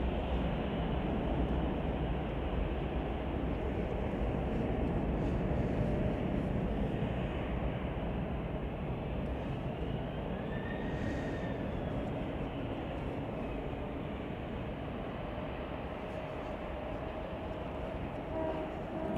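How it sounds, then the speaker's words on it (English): Air France Airbus A350-900 taking off at Chicago O'Hare, a distant steady jet roar with a faint rising whine in the middle, alone without talk. "this is Air France flight 137 taking off to Paris in a few minutes"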